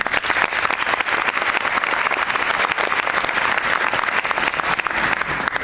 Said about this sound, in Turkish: Buraya bizi desteklemek için gelen büyüklerimize ve hocalarımıza bir alkış rica ediyorum.